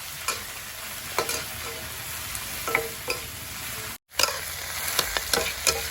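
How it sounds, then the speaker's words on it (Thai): Herbs such as coriander, culantro and spring onion are stir-fried in a pan outdoors in a rural flooded-field setting. A steady, close sizzle runs throughout with scattered spatula scrapes and clinks, and a brief cut-out near the end. "พอเราผัดได้แบบนี้เนี่ย"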